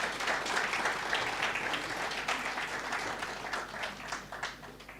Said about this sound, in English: give a warm applause to Mr.